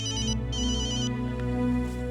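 A telephone ringtone plays continuously in a repeating electronic pattern, loud and clear, with no talking over it.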